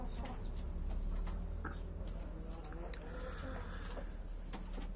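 Chickens cluck softly close by with a yellow rooster among three hens on a farm, short irregular calls over a low steady background hum.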